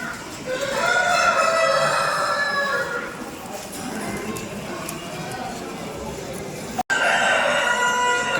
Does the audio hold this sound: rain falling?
no